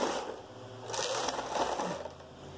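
A Knittax/KnitKing knitting machine carriage is pushed across the needle bed, making a close, continuous rasping, crunching slide that swells in the middle and eases off toward the end.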